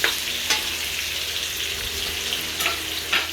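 White onions sizzle and crackle steadily in a hot pan, a continuous close frying hiss with a few sharper pops as they are stirred, no voices.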